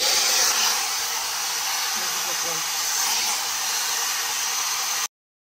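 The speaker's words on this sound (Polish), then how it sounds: "ta suszarka jest o tyle fantastyczna, że ona absolutnie dziewczyny nie parzy głowy, nie parzy skóry głowy" A Humanas hair dryer blowing with a steady, loud airy whoosh close to the microphone, running continuously for about five seconds before cutting off abruptly.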